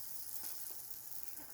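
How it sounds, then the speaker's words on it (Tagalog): Food bubbles and simmers in a clay pot, a soft continuous hiss and crackle with steady fine texture, close and faint with no voices. "Kumukulo pa yung kon."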